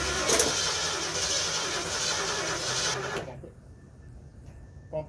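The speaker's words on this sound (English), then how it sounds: "Pump the throttle, like as you're cranking." Mercury Cougar car engine cranking with the throttle pumped, a loud dense churning whir for about three seconds that abruptly cuts out, followed by near quiet and a brief knock.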